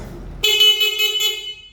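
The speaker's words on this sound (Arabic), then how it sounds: "الكلاكس بتاعه ما شاء الله صوته عالي جدا" A motorcycle horn gives one loud, steady blast lasting just over a second after a brief lead-in of background noise. The horn is loud and near.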